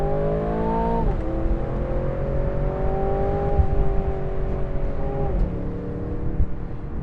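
An Aston Martin Vantage Roadster engine revs up hard, pitch rising through gear changes with two quick drops, loud and close, no voices.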